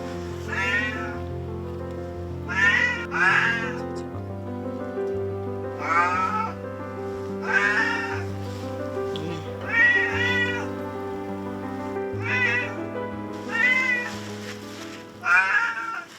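Injured cat rescued after a wildfire, meowing repeatedly in drawn-out, plaintive cries spaced a second or two apart, close and clear over a low steady hum.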